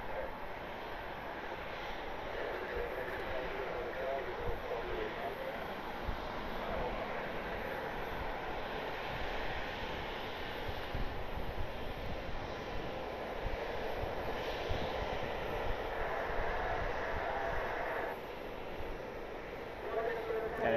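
A Challenger business jet on final approach at Columbus airport, a steady distant engine roar holding for the whole stretch, with faint background noise and no clear speech.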